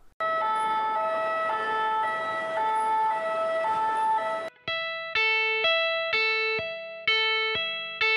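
An electric guitar imitates an ambulance siren, first a smooth two-tone wail alternating high and low, then a run of sharp repeated plucked two-note stabs that decay between strikes, played alone without talk.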